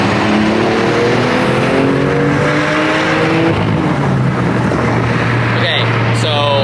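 BMW M2 Competition accelerating hard in third gear with the window down, heard from inside as a loud, steady engine roar whose pitch climbs steadily through the revs, then a brief tone change near the end.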